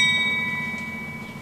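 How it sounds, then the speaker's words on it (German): A single bell struck by a nun in a convent backyard in Berlin-Charlottenburg rings with a clear, sustained metallic tone that slowly decays, heard alone at moderate distance. "Um 15 Uhr schlägt eine Schwester eine Glocke bei uns im Hinterhof."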